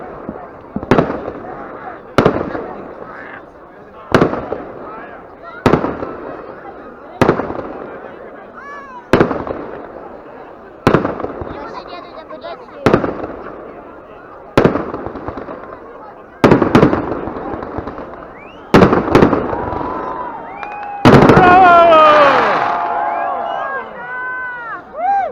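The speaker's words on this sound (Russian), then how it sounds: "салют" New Year fireworks burst outdoors in a steady series of sharp booming explosions about every second and a half. The blasts grow denser and crackling toward the end, and voices of a crowd are heard between them.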